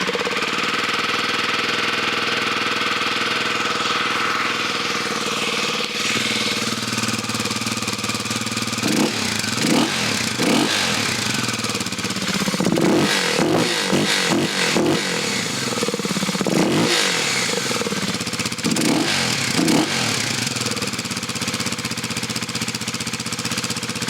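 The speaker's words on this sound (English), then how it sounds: "there is a noticeable intake noise there now the snorkel's out" A Kawasaki KLX300 motorcycle engine with its intake snorkel removed runs close by, a steady, loud idle with a rough intake note, broken by a few short blips and revs partway through.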